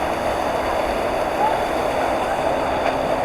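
Steady churning of water and engine drone from a 1910 steamship amid busy boat traffic including wake boats and jet skis, a continuous wash of spray and wind with no clear voices.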